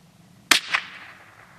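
A .22 LR rifle fires one sharp, loud crack outdoors, quickly answered by a distinct echo and a fading tail, with no talking.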